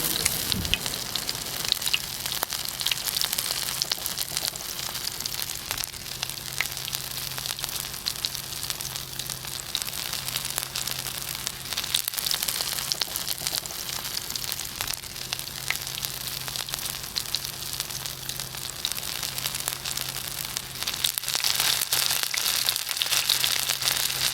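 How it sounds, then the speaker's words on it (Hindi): Peshawari beef chapli kababs fry in a pan with a loud, steady sizzle and crackle that runs without a break, a low hum beneath and no voices. "इनको अच्छे से आप लोगों ने पहले एक साइड को फ्राई करना है, फिर इसको दूसरी साइड से भी आप लोगों ने इसी तरह ही फ्राई करना है।"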